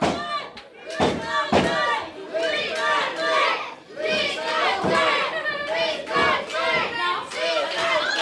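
A wrestling crowd at a live show cheers and roars in loud waves, with chanting swells and sharp slam-like impacts breaking through the noise.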